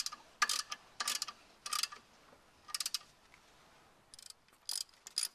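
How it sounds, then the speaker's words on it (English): Clutch pressure plate studs on a Vauxhall Vectra 1.7 TD being tightened with a ratchet: short bursts of crisp clicking come in quick groups with pauses between, close and fairly quiet. "So now we're going to tighten up the pressure plate."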